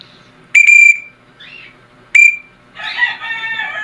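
Two sharp, loud whistle blasts used in bird training, the first a short double toot, each followed by a bird answering with a raspy call.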